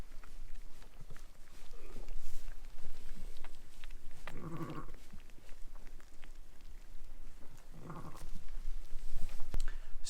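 Ewes and lambs bleat inside a lambing shed at night, a few calls rising over steady background rustle and patter, with louder bleats clustered midway and near the end.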